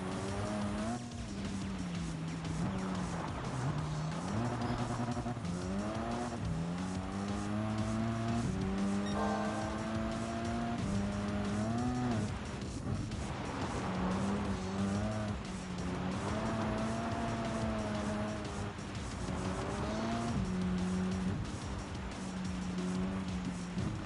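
Ford Focus in Gran Turismo 7 drifting on a dirt course: the engine revs climb and drop steadily through the slides, with tire noise and skidding, loud and close throughout.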